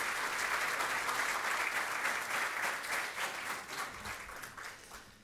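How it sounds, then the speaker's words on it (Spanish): An audience gives a book's author a strong round of applause at a law thesis book presentation, dense sustained clapping that fills the room and begins to thin toward the end. "Vamos a recibirlo con un fuerte aplauso."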